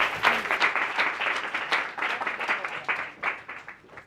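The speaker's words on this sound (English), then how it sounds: "Let's give them a round of applause." A modest round of applause from a small class audience for a student presentation team, individual claps audible in an uneven patter that thins out and fades by the end.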